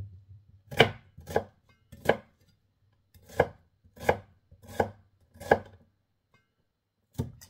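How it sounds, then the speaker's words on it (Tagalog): A knife chops garlic and onion on a board for chicken caldereta, about ten close, sharp strikes in uneven bursts with short pauses, heard alone over a faint low hum. "maghihiwa na po ako ng bawang at saka bombay"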